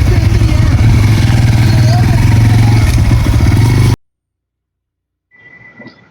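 A motorbike rides along with a loud, steady engine roar and road rumble that cuts off abruptly, followed by a short stretch of quiet and then faint muffled sounds.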